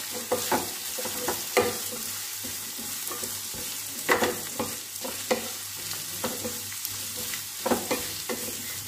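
Raw mango pieces for pickle are lightly sautéed in a pan, a low steady sizzle broken by several distinct scrapes and knocks of a stirring utensil at irregular intervals, with no voices.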